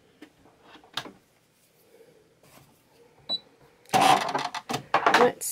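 Domestic sewing machine running after its bobbin case was replaced, starting with soft scattered clicks and taps, then a louder burst of rapid mechanical stitching rattle over the final seconds; no voices.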